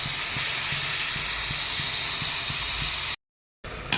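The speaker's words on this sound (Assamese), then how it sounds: "এইফালে কোমোৰাখিনিও চিটি মাৰিব, চিটি আহিব ধৰিছে।" Pressure cooker with pumpkin inside letting off a loud, steady whistling hiss of steam that runs continuously for about three seconds, then cuts off abruptly before a faint hiss returns.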